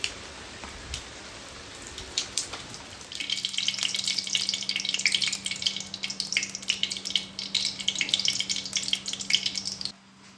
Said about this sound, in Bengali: তেলটা গরম হয়ে গেলে চিংড়ি মাছটা ভেজে নিই।